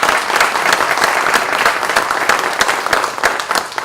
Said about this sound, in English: how about a round of applause for our panel members?